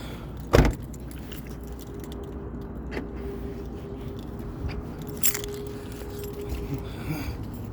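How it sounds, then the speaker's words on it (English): Keys jangle near a Saturn Ion car while it is being locked, a sharp metallic burst near the start and a few lighter clinks later over a steady low hum. "Lock the car."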